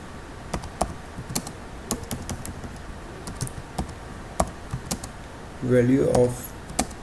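Keys on a computer keyboard click in irregular bursts as C++ code is typed, close and crisp, with a brief stretch of talking near the end.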